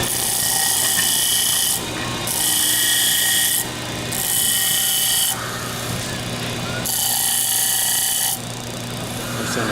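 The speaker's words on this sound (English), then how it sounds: "Just hand file the edge off of your screw" A hand file rasps across the edge of a metal screw in strokes of about two seconds each, a loud, close scraping with short gaps between strokes and a steady hum in the background.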